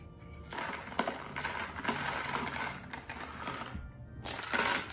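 Dried beans are poured into a paper-tube rain stick, giving a dense, continuous rattling patter of small hard pieces that is fairly close and steady, with brief swells and dips.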